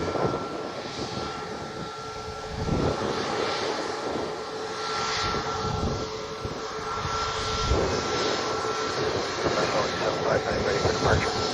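A Delta Boeing 757 jet at Montego Bay airport in Jamaica, its engines giving a steady, loud rumbling roar with a high whine that holds throughout, while radio voices talk underneath.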